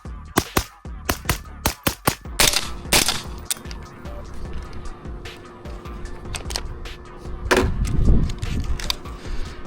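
A Springfield Armory Saint Victor AR-15 rifle firing a magazine at a range, a quick burst of loud, sharp shots at first, then a few spaced single shots and some handling noise.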